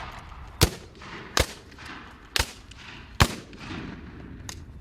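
Four sharp, widely spaced reports of Civil War battle fire, rifle volleys and artillery booming one after another with faint rumbling echoes between them and a fainter fifth shot at the end.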